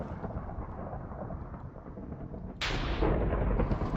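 Thunder cracks from a lightning strike in Minecraft, a steady broadband rumble that bursts sharply louder near the end and holds there, loud with no talking.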